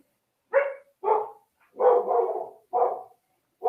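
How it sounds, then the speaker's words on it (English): A dog barks five times in short, separate bursts, fairly close and clear against a quiet background, with no other voices. "is that your dog who's excited about the Muscadet? Is that what we're hearing?"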